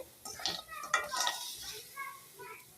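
Khurma sweets being stirred and fried in sugar syrup: a spoon scrapes and clinks against the pan in short irregular strokes, close and moderately loud, with a faint voice in the background.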